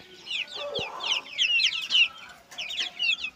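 Aseel chickens cluck and chatter in short, bright bursts, several birds close by, with a soft thump partway through.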